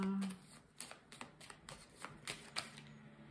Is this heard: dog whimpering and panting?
no